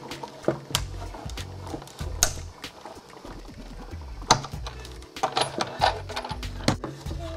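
A hand-cranked die cutting machine pushes paper sandwiched between cutting boards, producing a steady run of close, irregular clanks, creaks and ratcheting clicks as the crank turns.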